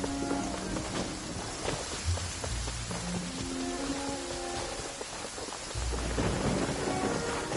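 Heavy rain pours steadily through a thunderstorm in the video game Genshin Impact, with low rolls of thunder rumbling in the distance and swelling louder near the end, and no voices.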